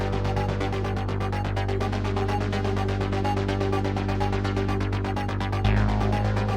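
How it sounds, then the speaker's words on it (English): Four layered Analog Lab synth parts play dry without Monolith processing: a dense, continuous post-punk darkwave pattern with a rapid pulsing rhythm and sustained bass, loud and steady, with a brief shift near the end. "without Monolith, these 4 synth layers sound like this."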